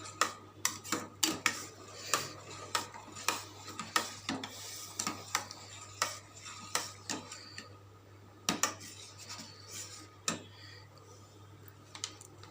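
Pumpkin halwa being stirred in a pan: a spoon scrapes and taps against the metal in irregular clicks, fairly quiet, over a steady low hum, with no talking.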